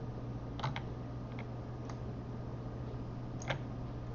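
A computer mouse clicks a few times at an unhurried pace while paths are drawn in Photoshop, the sharp little taps sitting over a constant low electrical hum.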